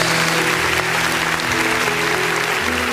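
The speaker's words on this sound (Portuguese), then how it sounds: "E as palmas engrandecem o nome de Jesus." A church congregation at an evening worship service breaks into loud, dense, continuous applause, heard close and alone, with steady musical tones humming beneath the clapping.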